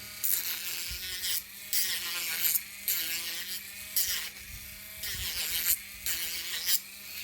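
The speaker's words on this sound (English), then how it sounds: "So I just hit it with my Dremel." A Dremel rotary tool rounds over the edge of a wooden hair barrette with a high, whining buzz in short repeated passes of about a second each, separated by brief pauses.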